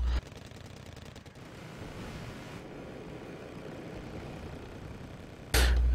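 Machine gun firing in the strategy game Wargame Red Dragon: a rapid rattling burst at the start, then a distant, steady rumbling wash of battle, ending in a sudden loud blast, with no talk.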